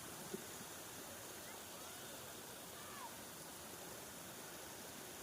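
Bolinao Falls 3 waterfall gives a steady, broad wash of rushing water, even and unbroken throughout, heard from a moderate distance with no talk over it.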